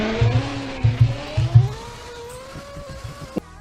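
A Mercedes car engine with an upgraded exhaust revs in bursts in the Roblox game Greenville, rising pitch as it accelerates, with throaty exhaust pulses and a sharp pop near the end.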